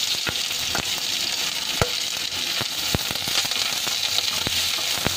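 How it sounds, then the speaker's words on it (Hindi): Onions frying in oil in a kadai while making chilli potato: a steady, close sizzle with sharp clicks from a spoon stirring against the pan. "यहाँ पर मैं सबसे पहले अपने प्याज शामिल करूँगी"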